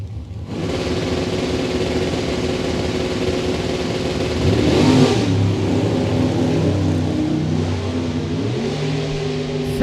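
Drag race cars, a 1970 Nova and a 1969 Firebird, roar steadily at a racing event, a dense, loud engine drone with rising and shifting pitch lasting throughout, with no talking.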